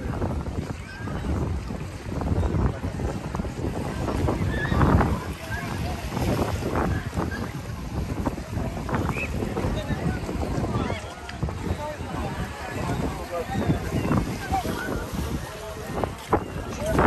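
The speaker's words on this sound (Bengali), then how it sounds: "এখানে সুন্দর বাতাস হচ্ছে প্রচুর বাতাস" Strong wind blows across a Toronto Island beach, roaring continuously and buffeting the microphone, with voices faintly mixed into the rush.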